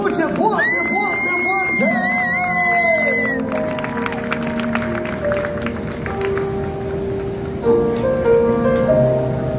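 Crowd at a quinceañera applauding and cheering, with shouts and whoops rising over music and voices; a loud, dense, continuous roar with people talking throughout.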